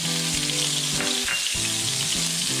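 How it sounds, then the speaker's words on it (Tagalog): Onion sautés in a pan, a loud steady close sizzle with bursts of crackle and faint scraping underneath. "ngayon mag-gisa na tayo. Sibuyas"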